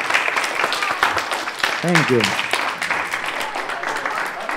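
Audience applause for children and a magician at the close of a library magic show, a broad steady patter of clapping throughout with a brief spoken thanks partway through.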